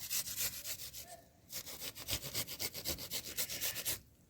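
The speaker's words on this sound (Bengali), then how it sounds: "এবারে গ্রেটার মেশিন দিয়ে ঘষে নেব।" Cut apple pieces rubbed against a grater, a quick rhythmic series of rasping scrapes in short back-and-forth strokes, close and clear, pausing briefly before a longer even run.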